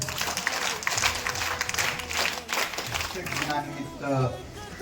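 At a Teachers' Day event in a school, a crowd bursts into loud applause, which tapers off as a voice begins speaking over a microphone.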